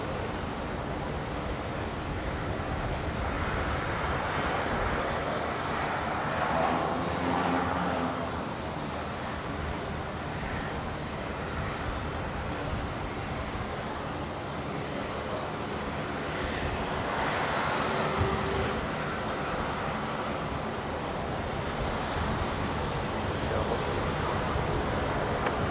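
An airliner departs Brisbane's international airport, and its engines roar steadily from a distance, swelling and easing over almost half a minute. A faint wind-like hiss sits under the engine noise, and no one speaks.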